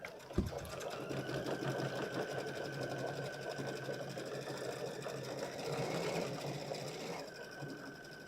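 An embroidery machine stitches a Kimberbell design with regular embroidery thread, a steady rapid mechanical whir and needle chatter running continuously, close and moderately quiet, without speech.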